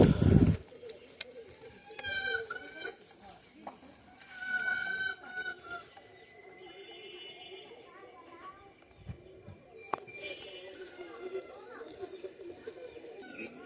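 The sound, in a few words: pigeons cooing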